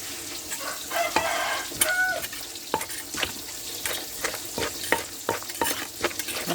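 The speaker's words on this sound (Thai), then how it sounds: "กำลังทอดปลาค่ะพี่น้องทอดปลานะ" Fish fries in a pan with a steady, quiet sizzle, punctuated by sharp clicks and scrapes of stirring and turning, while a rooster crows faintly in the background; no one talks.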